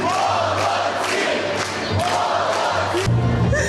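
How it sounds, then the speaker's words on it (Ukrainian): A large crowd cheers and shouts loudly and continuously as the Ukrainian Paralympic team arrives in Kyiv at night, welcomed in the rain with flowers, with a brief thump near the end. "Під шквал нестримних хвалебних вигуків вони виходять"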